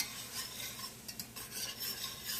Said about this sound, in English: the key to making a good, smooth, creamy roux is to make sure to never stop whisking